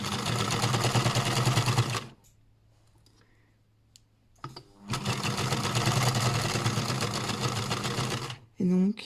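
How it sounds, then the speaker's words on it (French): Stitching elastic onto a dress, a sewing machine runs in two loud, steady bursts of rapid clicking with a quiet pause between them, then a brief final spurt. "Je viens coudre tout en tirant l'élastique."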